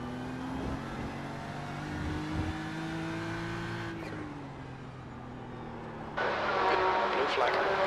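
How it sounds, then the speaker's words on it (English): A GT3 race car engine in an IMSA racing simulator at Watkins Glen drones at high revs with a gear change midway. A sudden burst of louder, brighter noise near the end suggests a faster car closing in. "There's a faster car approaching."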